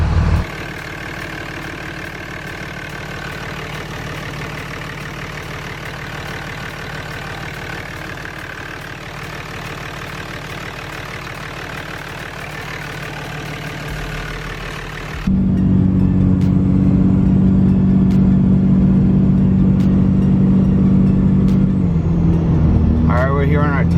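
A Cummins diesel fitted with an aftermarket exhaust manifold runs steadily at a mid-level rumble, then turns noticeably louder and deeper partway through as the engine note thickens and holds, with faint sounds of people at times.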